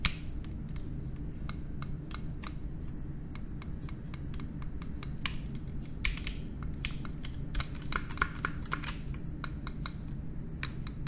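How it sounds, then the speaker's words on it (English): Key presses on a Noxary T60 mechanical keyboard turned upside down, its PCB components clicking against the bottom case: a steady run of crisp, close ticks and taps over a low background hum. "When I pressed a key, I heard a familiar click of PCB components hitting the bottom case."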